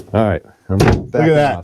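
The cabin door of a 1979 Gulfstar 37 sailboat swings shut with a single brief thunk, set between short bursts of someone talking close by.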